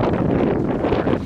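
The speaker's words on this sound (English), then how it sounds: "I apologize about the wind in advance." Wind buffets the microphone outdoors beside a WindTura 750 wind turbine in loud, low, fluttering gusts that swell and ease over a second or so.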